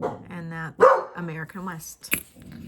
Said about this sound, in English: Sorry about the dog, you guys.